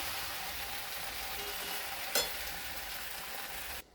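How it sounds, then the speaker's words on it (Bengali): Mixed vegetable curry with fried eggplant stirred in a pan, giving a steady close sizzle and frying hiss throughout, with one sharp scrape of the spoon partway, then it stops abruptly. "এইবারে ভেজে রাখা বেগুনটাও দিয়ে দিচ্ছি। ভালো করে একটু নেড়ে চেড়ে নিই।"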